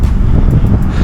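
Loud wind gusts buffet the microphone outdoors as it turns windy during a training day, producing a continuous low roaring rumble.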